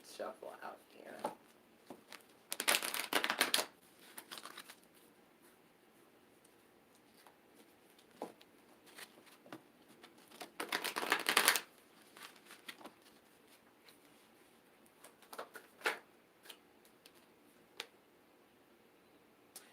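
Oracle advice cards are shuffled in two short, crisp bursts of rustling and slapping, separated by long quiet stretches with faint scattered ticks and small handling noises.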